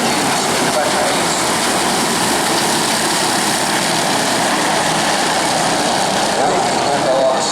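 Several 50cc mini sprint race cars compete in a heat at Arena Essex, their small engines forming a steady, dense buzzing roar with no clear individual passes, the crowd of machines sounding continuous and fairly loud throughout.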